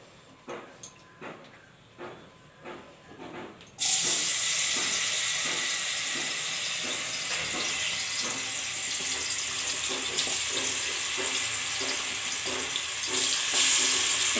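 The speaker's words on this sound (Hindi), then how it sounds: "अहाँ बढ़िया से ओल के फ्राई हो दियो" Raw elephant foot yam dropped into hot mustard oil in a kadhai bursts into a loud, steady sizzle and hiss that runs on, after a few seconds of quieter clinks and handling sounds.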